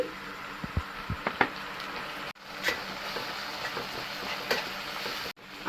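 Ginger, garlic and chili paste being stirred into onions fried light red in a pan, with soft scraping strokes and a low sizzle throughout, broken by a couple of brief pauses.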